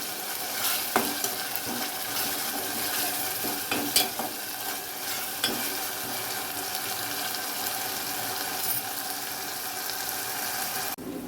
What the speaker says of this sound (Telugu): ఇది కూడా ఆయిల్లో చక్కగా వేగాలి పచ్చివాసన పోయేంత వరకు